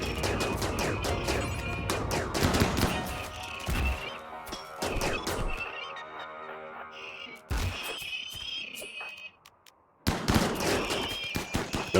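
Repeated volleys of gunshots in RimWorld, loud dense bursts separated by short pauses, with a near-silent gap before a final heavy burst of shooting.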